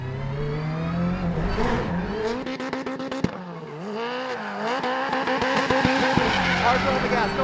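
A driver's 862bhp Subaru Family Huckster spins under hard throttle, its engine revving and wavering in pitch while the tires skid and squeal in long loud scrubs, with voices faintly underneath.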